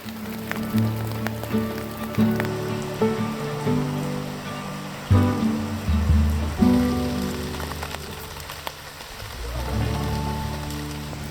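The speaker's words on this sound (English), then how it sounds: "So this rain is not letting up anytime soon, and it's getting worse and worse." Heavy rain falls at a campsite on Vancouver Island, a steady patter and drumming on surfaces close by, with irregular louder drips, under a faint tonal background.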